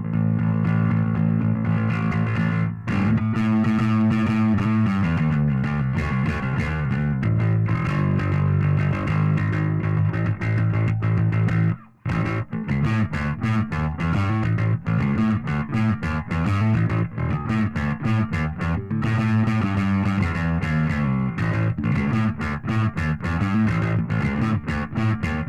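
An electric guitar played through a Nembrini Audio Blackice Beta Gamma amp simulator gives a loud, saturated distorted tone in chugging riffs and sustained chords, continuous apart from one brief drop to silence midway, with no talking.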